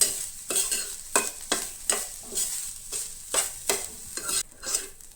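Grated coconut being fried in ghee and stirred in a pan, a rhythmic series of scraping, sizzling strokes about twice a second, close and clear with no talk.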